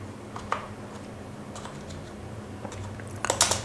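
Typing on a computer keyboard while writing Python code, quick irregular clicks and taps close to the mic, with a denser burst of keystrokes near the end over a low hum.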